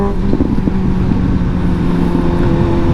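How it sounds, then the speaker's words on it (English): A 2019 Suzuki GSX-S750 motorcycle engine runs steadily nearby, a loud continuous idle-like drone with low rumble and no speech. "I actually really like the sound of this bike."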